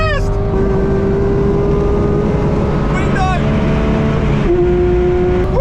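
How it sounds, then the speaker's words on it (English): Engine of a wrecked Porsche GT3 driven hard, a steady high revving tone held loud and close, dropping briefly and climbing again, with excited talk over it. "Oh, that Porsche is fast!"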